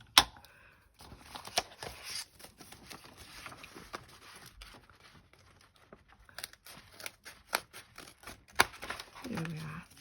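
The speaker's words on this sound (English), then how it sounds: "I'm just going to attack that with the scissors" Crisp snipping and paper rustling, a run of short cuts in bursts, close by, with handling noise between them.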